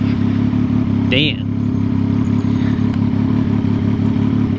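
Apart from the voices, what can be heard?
loud vehicle exhaust in traffic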